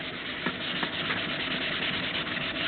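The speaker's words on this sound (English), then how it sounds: "You use the kerosene and you wipe it over the entire surface of the Sharpie." A cloth soaked in kerosene rubs over plastic to lift Sharpie marker, a steady close scrubbing swish with a few sharper strokes throughout, heard alone without talk.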